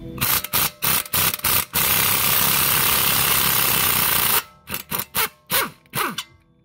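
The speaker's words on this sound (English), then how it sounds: "I'm just going to stick my impact on this side with my 12 point Torx, and I'm just going to give it a quick zap" An impact wrench fitted with a 12-point Torx bit hammers at a corroded brake bolt during a brake job, several short loud rattling bursts, then one long sustained run, then a few more quick bursts.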